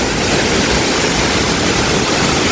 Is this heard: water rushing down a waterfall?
yes